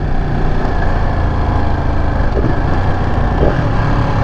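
A loud, steady motorcycle engine rumbling at idle up close, a continuous low throb with no speech.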